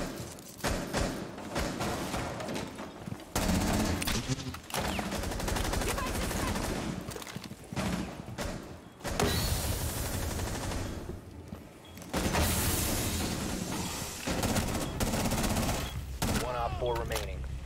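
Rainbow Six Siege gunfire, with a player being shot at through the floor: dense, loud bursts of automatic fire and thuds, rattling in rapid volleys with brief gaps across the whole stretch.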